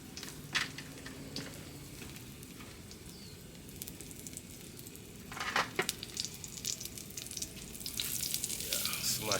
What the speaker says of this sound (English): we're going to start sear off some potatoes. We smash them a little bit, put them in, make them sear